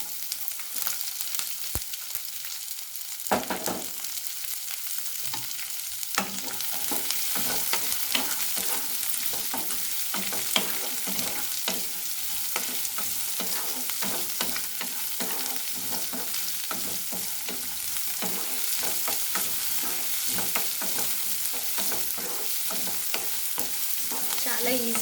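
Green chillies, carrot and onions sizzle steadily in a pan while being stirred, with continuous close frying crackle and scraping stir strokes throughout; nobody speaks.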